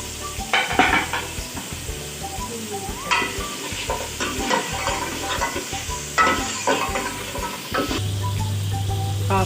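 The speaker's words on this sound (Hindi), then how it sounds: "अब हम इसको भूनेंगे" Mutton frying and being stirred in a kadai for yakhni: a steady sizzle runs under repeated scraping and clanking strokes of a spoon against the pan, close and fairly loud, with no talking.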